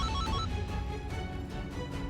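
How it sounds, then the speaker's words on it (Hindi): A mobile phone ringtone plays steadily and fairly loud over low musical backing, a repeating electronic melody with no talk. "आपके फोन से आवाज आ रही है ये?"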